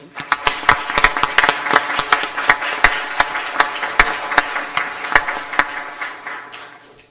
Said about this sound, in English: I'd like to ask the audience to kind of give her a round of applause for her time